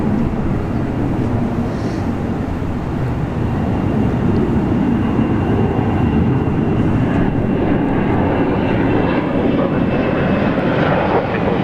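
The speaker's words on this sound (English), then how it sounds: "FedEx 73 coming in from Honolulu" A FedEx aircraft arriving from Honolulu at Sydney airport roars steadily and loudly, a dense continuous engine rumble that holds for the whole stretch.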